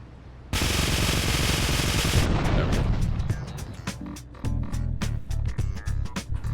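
Gunfire in the video game GTA3 Definitive Edition: a loud, sustained burst of rapid shots gives way to a quicker string of separate, sharp reports close by.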